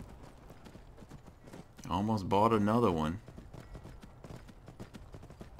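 Horse hooves clip-clopping in Skyrim, a steady trotting patter throughout while someone talks briefly over it.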